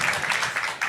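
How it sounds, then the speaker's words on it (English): Audience applauding cooks on a kitchen stage at a food forum, a brief, steady wash of clapping at moderate volume with faint voices underneath. "Big round of applause."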